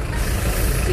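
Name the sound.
FedEx delivery truck with air brake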